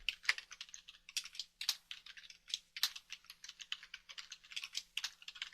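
Close, brisk typing on a computer keyboard while entering a name in Revit software: quick bursts of clicking keystrokes with brief pauses between words, alone and without talk.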